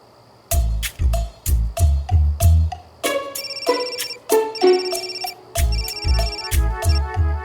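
A phone ringtone plays repeatedly and loudly: a short melodic burst pattern, then a brighter chiming tune, then the bursts again, with no talking.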